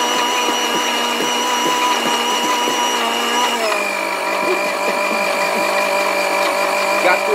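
A blender whirs at a steady high pitch while mixing a chocolate cocktail with cheese and cognac, and its tone drops partway through as the contents settle, with the motor running loud and continuous throughout.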